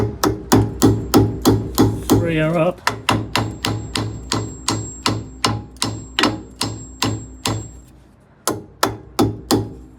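Steady hammer blows strike a Morris Minor car part in a quick, regular rhythm, close and loud, with a brief pause near the end; a voice speaks briefly over the banging.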